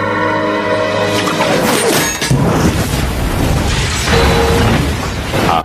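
A ghost ship blows apart in a film scene: a loud, broad blast bursts out about two seconds in over an orchestral score, followed by sustained rumbling, crackling debris and further surges of destruction.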